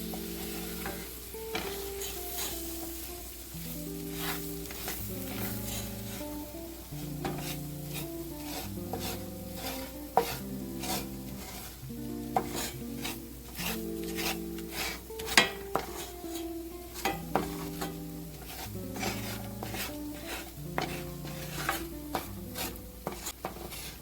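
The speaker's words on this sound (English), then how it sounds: "you just want to mix that in very well into your butter" About 2 tablespoons of flour is stirred into melted butter in a pan to make a roux, giving a near, continuous rhythmic scraping and stirring over a soft sizzle, with no talk.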